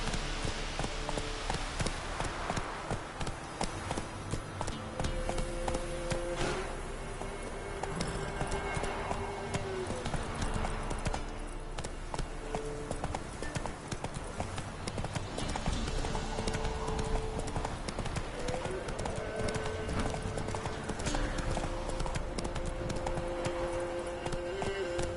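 Hooves of Roach, the horse in The Witcher 3, clip-clop steadily along at a loud, close, even trot over a constant bed of game music, with no talking over them.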